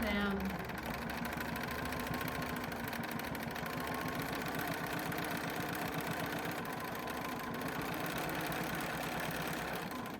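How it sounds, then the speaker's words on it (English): A sewing machine runs steadily at a low, even level through a quilt block, a continuous mechanical hum and patter with no breaks. "So I'll just do a couple of stitches to lock it"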